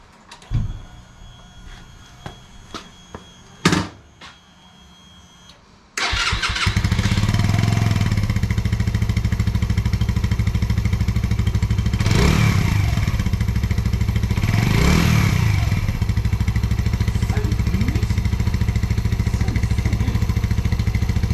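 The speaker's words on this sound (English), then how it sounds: "let's just listen to how good for a 125 this bike sounds." A 125cc motorcycle starts up after a few quiet knocks, then its engine runs loud and steady nearby, with two rising revs that swell and fall back to a rough idle.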